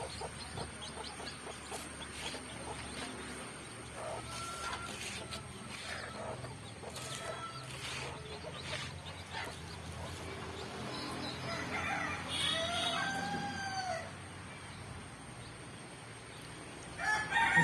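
Native village chickens, including brooding hens, cluck on and off at close range, with a rooster's crow rising partway through over a quiet farmyard background.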